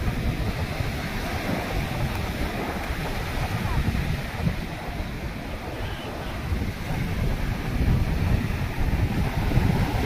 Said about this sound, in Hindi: इस बार जो लहरें आई है काफी दूर तक आई।